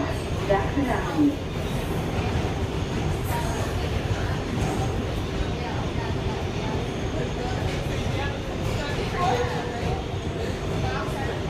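R188 subway car on a 7 local train, heard from onboard while riding: a continuous dense rumble of wheels and motors at steady loudness, with an automated announcement voice over it.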